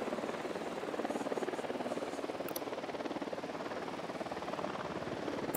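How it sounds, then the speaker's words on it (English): An incoming helicopter in the video game Ghost Recon Wildlands thrums steadily, its rotor chop a fast continuous pulse that stays fairly distant and even throughout, with no voices over it. "Helicopter incoming."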